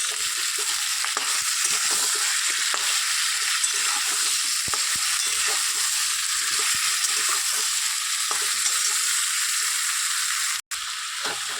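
Taro and potato sizzle and fry in a pan for a duck egg curry, a steady, bright hiss running continuously at close range with no voices.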